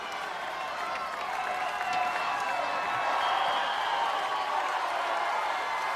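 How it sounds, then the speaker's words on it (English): An arena crowd at an American Gladiators competition cheers and applauds steadily throughout, a broad wash of clapping and shouts with a faint voice beneath it. "They're cheering her on."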